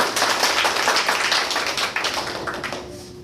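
A seated audience at a mind-study talk claps together in a brisk, dense patter, loud and close, which gradually thins and fades toward the end.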